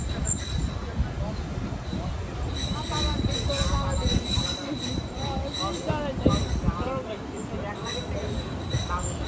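A moving passenger train rolling through green countryside in Bangladesh, a steady rumble of wheels on rails with rattling carriage noise, while voices chatter over it throughout.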